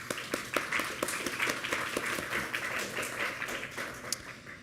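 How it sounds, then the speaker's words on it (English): Conference audience applauding a panel welcomed onstage at a talk on material resilience and sustainability, steady rapid clapping held at a moderate, somewhat distant level throughout. "I think we should have an applause for the panel."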